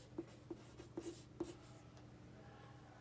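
A pen scratches out a quick sketch on paper in a handful of short, quiet strokes, close and soft, with nothing else around.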